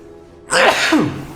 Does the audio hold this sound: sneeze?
yes